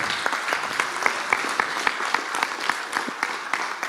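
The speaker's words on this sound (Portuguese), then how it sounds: "vamos aplaudir o Senhor." A church congregation claps during a worship service, a sparse, fairly close patter of individual hand claps with rhythmic accents, with no talk over it.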